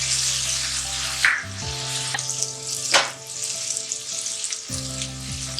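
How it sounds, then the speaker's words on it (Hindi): Garlic ginger paste with garam masala sizzles and fries in a pan for chicken kurma, a steady close crackle with stirring scrapes and a steady tonal hum underneath. "लहसुन अदरक की पेस्ट है हमारे पास, इसको अच्छी तरह भूनना है"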